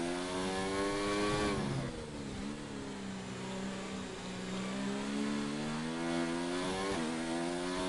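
A racing car in a racing video game at turn 13, its loud engine note falling as it downshifts and then rising again with a steady whine.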